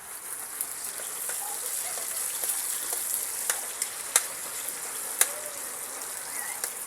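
Chopped onion and ginger browning in a pan, frying in oil with a steady sizzle and scattered sharp pops and crackles at moderate volume.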